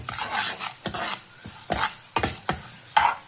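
Fenugreek seeds and spices dry-roast in a pan for a Madhva Brahmin style sambar, with a run of sharp rhythmic scraping stir strokes, about six or seven quick, close scrapes over a faint crackle, no voices.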